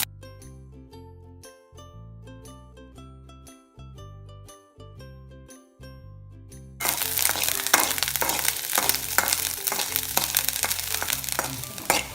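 Wheat flour roasting in a pan for paniyaram, arriving after several seconds of background music as a loud, close, crackling dry hiss with irregular scraping stirs.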